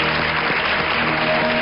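Studio audience applauding on a Spanish afternoon television show, a dense, steady wash of clapping filling the whole stretch at even loudness with no talk over it.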